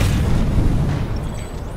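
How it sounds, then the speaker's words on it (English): A video game direct-hit explosion lands as a loud, low boom that slowly fades over nearly two seconds, with a faint high tone near the end. "The direct hit sound with an explosion."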